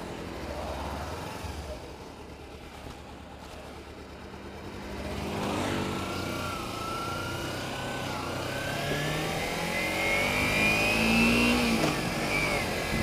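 Kawasaki Ninja 250FI fuel-injected motorcycle pulling away: engine revs climb through rising gear pulls over road noise, growing louder and higher as the bike accelerates, with no speech.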